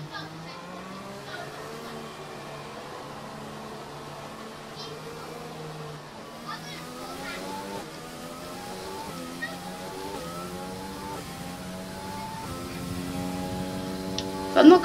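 Race car engine in an F1 video game during a wet race, with repeated upshifts: rising whining tones that climb and drop in a sawtooth pattern, fairly loud and steady, building toward the end.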